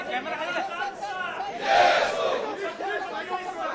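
A crowd celebrating and cheering for Shivaji's forts being added to the UNESCO heritage list, many voices shouting and chanting together in a sustained roar that swells loudest midway, with chatter running throughout.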